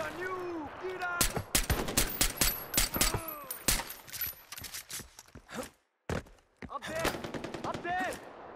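Rapid bursts of gunfire in a video game shootout, loud sharp shots in dense clusters with a brief silent gap, while players shout over it.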